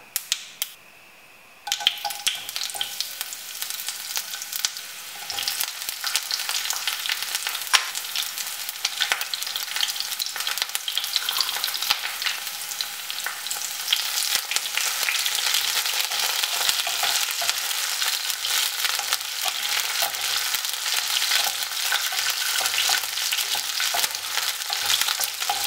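Chopped shallots, green chilies, dried chilies and curry leaves hit hot oil with mustard seeds, setting off a sudden loud sizzle that continues dense and crackling, with sharp pops and spatters throughout.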